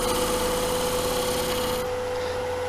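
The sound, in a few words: gouge carving a groove in wood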